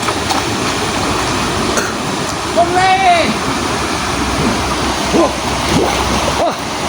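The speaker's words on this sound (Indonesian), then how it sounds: "airnya cukup deras" Swift river current rushing steadily as a continuous broadband wash, with a person calling out over it partway through.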